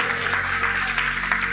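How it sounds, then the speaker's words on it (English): An audience claps together in a large hall at a church service, a dense continuous patter of applause heard close and steady for a moment without a break. "Please clap for her."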